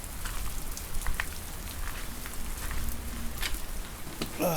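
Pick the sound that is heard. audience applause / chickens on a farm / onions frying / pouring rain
pouring rain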